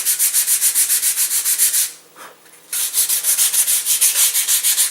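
Sanding along the edges of a Windlance glider wing to taper it into an airfoil, a steady rhythmic rasping of strokes, close and loud, with a short pause midway before the back-and-forth resumes.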